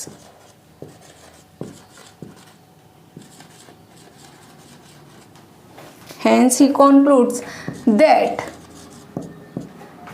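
Pen scratching on paper during a physics lesson, with scattered faint strokes at first and then a louder, busier burst of writing near the end, under a speaking voice.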